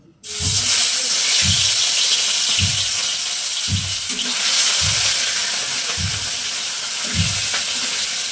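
Pieces of rui fish fry in hot oil with a loud, steady, close sizzling hiss that runs throughout, broken by soft low thumps that recur roughly once a second.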